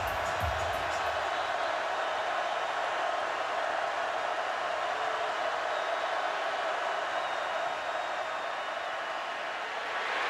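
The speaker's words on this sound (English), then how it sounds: "Felipe Franks is dealing with the crowd noise" Steady roar of a college football stadium crowd at Tennessee's home game against visiting Florida in 2018, a dense continuous wash of noise holding level and loud from start to finish with no distinct voices.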